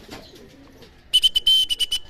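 A racing pigeon that has just landed after an 80 km training flight coos softly. A burst of brighter chirping or whistle-like sounds follows in quick pulses, close by.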